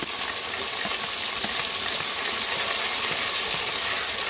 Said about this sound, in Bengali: এখন টমেটো দিয়ে দিব।